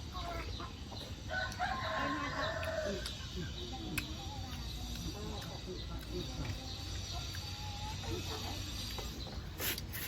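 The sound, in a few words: rooster crowing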